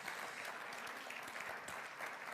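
Church congregation clapping after an emotional video at a service, a soft, steady wash of many hands heard from some distance, quiet and even throughout with no talk over it.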